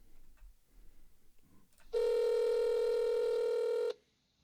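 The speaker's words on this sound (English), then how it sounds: "And here's the phone call." A telephone tone opens a recorded phone call: one steady, buzzy electronic tone holds for about two seconds after a quiet stretch, then cuts off abruptly.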